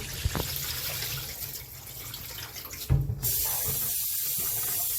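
Jasmine rice being rinsed with tap water in a kitchen for Jamaican rice and peas, a close gushing and splashing run of water, broken by a couple of thumps, then a steadier hissing flow.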